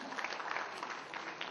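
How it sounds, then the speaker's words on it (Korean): Audience applause at a Korean traditional pop music awards ceremony, a short, fairly faint burst of dense clapping from a crowd, even throughout with no clear voices. "큰 박수 부탁드립니다."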